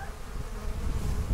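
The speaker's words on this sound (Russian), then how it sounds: "Вот я поймал пчелу." A honey bee buzzing close by, a steady droning hum lasting the whole moment with no other sounds.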